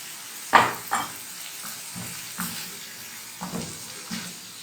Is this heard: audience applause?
no